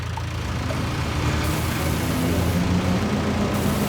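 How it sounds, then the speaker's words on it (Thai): A Kubota U48-4 mini excavator with an enclosed air-conditioned cab, as simulated in Farming Simulator 19, runs with a steady low engine drone that rises slightly as it revs, continuous and fairly loud with no talk. "เราเร่งเครื่องหรือเปล่าเนี่ย เอาก็เร่งอย่างนี้ว่ะ"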